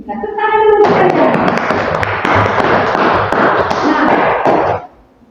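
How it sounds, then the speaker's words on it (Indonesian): A primary school class clapping hands together in a loud, dense burst of claps lasting about four seconds, close and then cutting off abruptly, following a brief word from the teacher. "tepuk tangan dulu sekalian"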